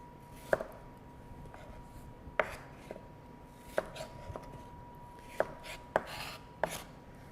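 Knife cutting through apple quarters on a cutting board to remove the cores for a Waldorf salad, six or seven sharp, close chops spaced irregularly over a quiet background hum.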